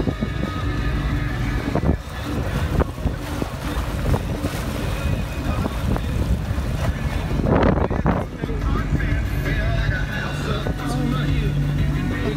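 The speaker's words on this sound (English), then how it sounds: "All they're gonna hear is the wind." Steady wind rushes across a boat on a lake, a loud continuous roar with gusts and buffeting throughout, and voices are faintly audible beneath it.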